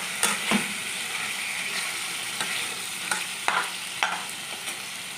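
Marinated chicken stirred and fried in a pan on high flame, a steady close sizzle broken by a handful of sharp scraping stirs over about five seconds.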